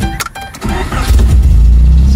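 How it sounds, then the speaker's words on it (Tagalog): A car's engine cold-starts: a brief starter crank, then it catches and settles into a loud, steady idle close by, with no talking. "So ayan no, cold start tayo kay Tudor"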